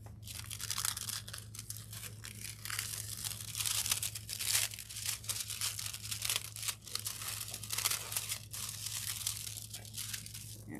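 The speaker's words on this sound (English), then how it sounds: "let the fabric cool down just a second before I pull the foil off" Foil carrier sheet is peeled slowly off heat transfer vinyl pressed onto a cotton apron, a close, quiet crackling and tearing rustle that continues with irregular pulses.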